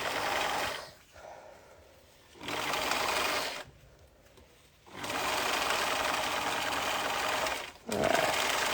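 A sewing machine stitches fabric in three bursts of rapid, close mechanical whirring, separated by short quiet pauses, with no talking.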